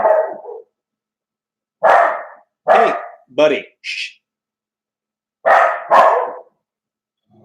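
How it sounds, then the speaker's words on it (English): A neighbor's dog barks loudly and close in sharp separate bursts, six or so barks with gaps of silence between them, and a person briefly speaks softly to hush it. "He's got a bark that could bend steel."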